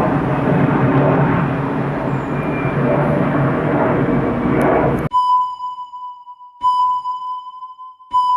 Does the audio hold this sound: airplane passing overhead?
yes